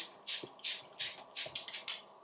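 Setting spray misted onto a face during makeup, five or six short, sharp hissing bursts in quick succession, close and fairly loud in an otherwise quiet room.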